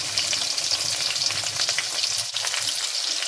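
Peppercorns, green chili and garlic fry in hot oil with a steady close sizzle, dotted with small pops and crackles as the peppercorns burst, and occasional stirring scrapes.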